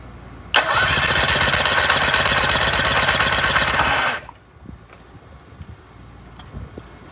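A Mercury 25XD two-stroke outboard motor cranks and fires, running loud and close with a steady buzzing roar for about three and a half seconds before cutting off abruptly, leaving faint background noise.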